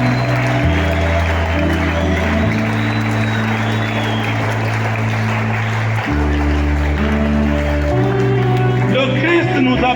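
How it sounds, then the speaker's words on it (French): A church congregation applauds loudly and steadily through a Sunday service, dense sustained clapping with cheering voices over a held organ or keyboard chord that shifts pitch underneath. "Acclamons très fort pour la parole du Seigneur."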